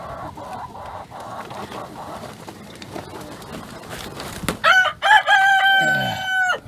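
Hens nesting inside a coop give low, repeated clucks and murmurs, close by, with louder, sharper squawking calls rising near the end.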